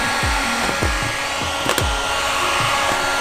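A heat gun blows a steady, loud hot-air whoosh over stretched vinyl wrap film on a fender, with several short soft thumps and creaks as the film is handled.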